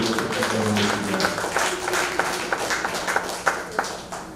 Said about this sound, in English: let's also give them some applause for their work